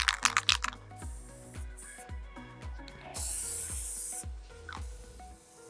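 Iron Lac blue spray paint can in use: a short burst of can rattling, then a hissing spray that runs about a second before stopping, followed by a second brief hiss.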